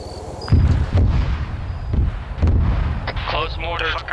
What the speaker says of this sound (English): Close mortar.